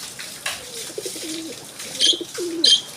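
Pigeons coo close by, including a large red pigeon, in a few soft, throaty bursts that swell and fade with short pauses between them and no voices over them.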